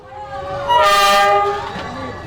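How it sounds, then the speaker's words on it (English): A train passes through a narrow alley in Hanoi, Vietnam, inches from people, rumbling close by and swelling to a loud roar with a horn-like tonal blare, then fading slightly as it moves on. "The train roars past like it owns the tracks."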